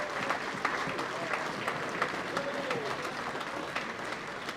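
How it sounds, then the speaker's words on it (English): A hall audience at an evening awards night claps warmly for life members walking up to the stage, a steady, moderately distant round of applause that holds at an even level throughout. "Warm round of applause for the life members as they make their way up to the stage."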